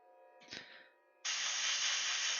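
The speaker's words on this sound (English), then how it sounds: "The orange colour that you see on there is a car body filler spray primer." Aerosol can of orange car body filler spray primer, used on a painted miniature, giving a short faint spurt and then a loud, steady hiss sustained close by.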